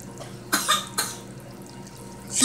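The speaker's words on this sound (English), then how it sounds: "And the baby coughing" A child coughs in two short bursts, close by, over a quiet room; a faint hiss rises at the very end.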